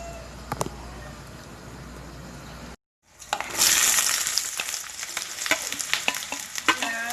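Onions dropped into hot oil for a pigeon curry burst into a loud, steady sizzle after a brief silence, with stirring scrapes and crackles continuing close by.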